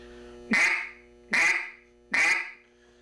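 Three loud, sharp quacks blown on a vintage Rick Dunn duck call, voiced with a "hut" from the diaphragm, evenly spaced about a second apart, each a short nasal blast.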